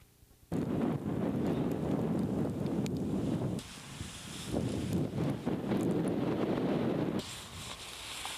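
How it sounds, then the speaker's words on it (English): Gusting wind blowing outdoors in poor visibility, a loud broadband rush that swells and eases in long surges with brief lulls, steady close roar against the microphone. "it still is not good when the wind does gust."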